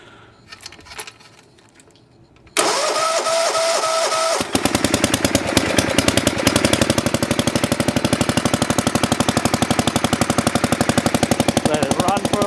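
A tractor engine with its safeties bypassed starts up with the choke pulled out, after some faint handling noises. It settles into a loud, rapid, even chugging idle that carries on close by.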